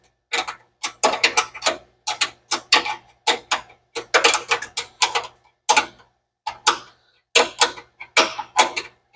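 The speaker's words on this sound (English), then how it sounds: "All right, so I forgot to tighten the battery up. Let's do that." A wrench tightens the battery hold-down bolt in an engine bay of an 83 Fox-body Mustang GT with a big block, making close, repeated bursts of ratcheting clicks in an uneven rhythm.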